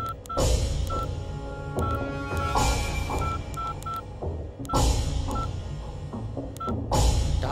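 A mobile phone number is dialed in a Telugu film scene, a quick run of short keypad beeps in uneven groups over a steady, full background bed.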